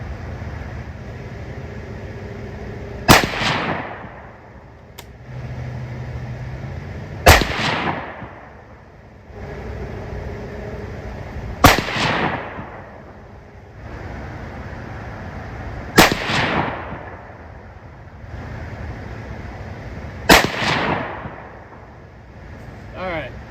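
.223 rifle reloads with AA2520 powder fired at a target outdoors: five loud, sharp shots spaced evenly about four seconds apart, each ringing out briefly.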